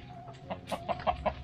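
A rooster on a village farm in Cidahu, Indonesia, clucks in a series of short, moderately close calls that grow slightly louder, with faint rural background noise and no talking.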